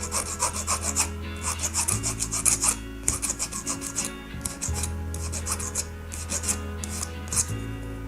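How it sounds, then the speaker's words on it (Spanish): Close metal file rasping back and forth on a small metal ring to level it, a steady run of rhythmic strokes with a faint low hum behind, no voices. "limar esa parte, dejarla a nivel con el resto"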